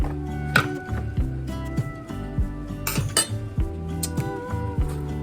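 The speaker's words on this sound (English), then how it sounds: "put the lid on them and just sit them on my on this cutting board" Glass canning jars holding strawberry fig preserves are set down on a cutting board beside a stove, giving close, repeated clinks and dull thunks with a ringing glassy tone, in an irregular rhythm.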